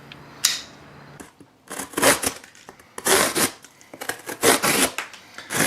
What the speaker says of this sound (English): See how nicely this piston just slices through that cardboard, not dragging.